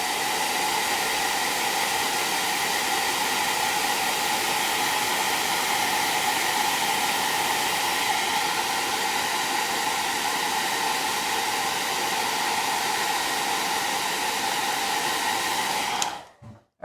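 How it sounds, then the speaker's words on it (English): A hair dryer blows steadily and loudly for about sixteen seconds to dry yellow paint on a stenciled pumpkin, a constant rushing airflow hum that cuts off abruptly at the end. "I am going to have to blow dry now here"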